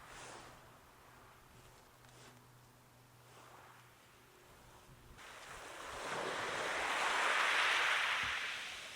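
Gentle surf washes onto a UK beach shore on a calm, sunny winter day, soft and steady at first, then swelling into a louder rush of breaking water, with light wind buffeting the microphone.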